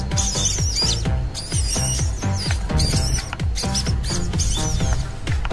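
A recorded civet lure call played back for trapping, a busy run of repeated shrill chirps and squeaky whistles in quick rhythmic bursts, loud and continuous with no talk over it.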